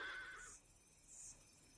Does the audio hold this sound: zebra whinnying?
yes